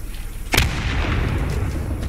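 A single sharp grenade blast in the World War II infantry game Post Scriptum, loud and close, its boom trailing into a lingering low rumble with no voices over it.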